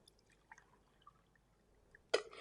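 Water is poured into a glass for a protein powder demonstration: after a near-silent stretch with a few faint drips, a sudden close splash of pouring starts at the very end.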